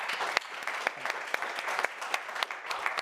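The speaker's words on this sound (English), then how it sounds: "A round of applause." A panel audience at a media event claps steadily for a few seconds, a moderate, close wash of overlapping hand claps.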